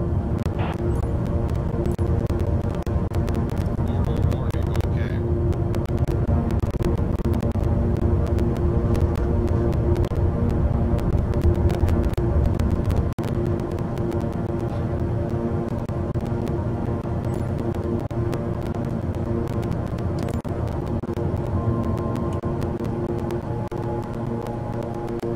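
Beech King Air 350i turboprop taking off from runway 23 at Phnom Penh in Microsoft Flight Simulator, a steady loud engine drone with layered tonal hum, easing slightly in level about halfway through, no voices.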